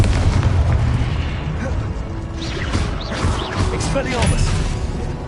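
Confringo blasting spell in the wizarding game Hogwarts Legacy: a run of fiery booming blasts and crackling bursts during a duel, steady and loud throughout, with spell whooshes and a voice speaking over the action.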